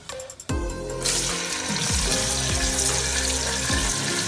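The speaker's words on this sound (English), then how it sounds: "In the oil, we already have our oil on fire. We added our chopped onions. We want to just stir it for a little bit." Chopped onions drop into hot oil with a sudden loud sizzle, then fry steadily while a spoon scrapes and stirs them in a few repeated strokes.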